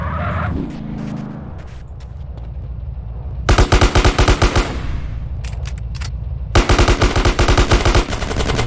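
Rapid bursts of automatic gunfire from the mobile version of the video game GTA, two loud sustained volleys of machine-gun shots separated by a short pause, with quieter game sounds before them.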